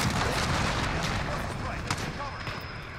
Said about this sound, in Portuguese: Tá explodindo tudo aqui, velho